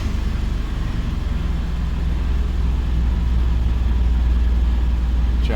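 A 2010 Subaru Forester with an intermittent crank-no-start fault settles into a steady, low engine idle with a dense rumble and faint hiss, heard close and unbroken with no voices.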